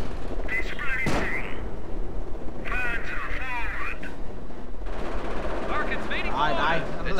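Machine gun fire rattles through a Company of Heroes battle, steady and fairly loud beneath someone talking excitedly over it.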